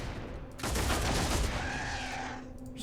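Rapid sustained gunfire in Warhammer 40000: Deathwatch, a dense, loud burst of shots that starts abruptly and holds for about two seconds before tailing off.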